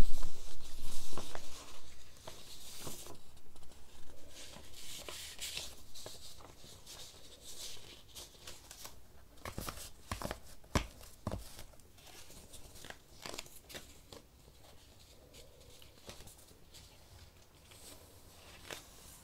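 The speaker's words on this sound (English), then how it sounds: "shuffling some papers a little bit." Papers being shuffled in a quiet room, soft crinkling, rustling and tapping in irregular bursts, louder at first and then fainter and sparser, close to the microphone with no talking.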